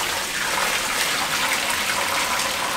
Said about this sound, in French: Ça va nettoyer les canalisations. On rince bien.